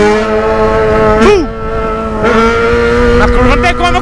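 A Honda Hornet motorcycle engine wails loudly at high revs during a street race, the pitch sweeping down and climbing again between gear changes, close and continuous.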